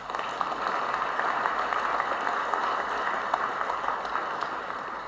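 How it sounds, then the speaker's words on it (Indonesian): Audience applause during a presidential address on ASEAN, a moderate, even wash of clapping that holds steady for several seconds without talk over it. "Ini kita harus tepuk tangan."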